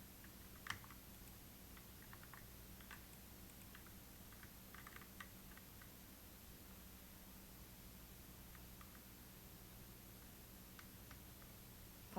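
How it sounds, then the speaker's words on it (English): Quiet, scattered taps on a computer keyboard come in sparse clusters over a steady hiss of background noise during Touhou gameplay, with no talking. "I'm also using a keyboard, so if tapping sounds are heard, that's why"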